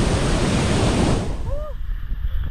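Maranatty Waterfalls in Kerala, with water falling in a steady, dense roar of broadband noise. It stays loud throughout, with a faint tonal whistle partway through.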